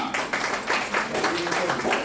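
Teachers at a seminar clap together in a quick, steady rhythm, with fairly close, even bursts of applause mixed with some voices.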